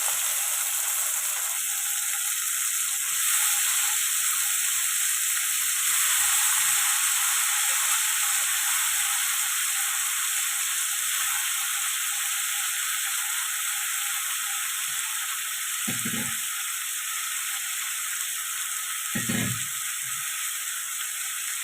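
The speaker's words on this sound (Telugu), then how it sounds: "కట్ చేసి పెట్టుకున్న వంకాయలు వేసుకున్నా." Cut eggplant hits a pan of frying ginger garlic paste for vankaya batani curry, giving a steady, bright sizzle and hiss throughout, with a few soft clunks from the pan and no one speaking.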